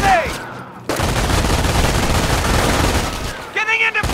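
Sustained machine gun fire rattles loudly and continuously in a Company of Heroes battle, with brief quieter moments at the start and end.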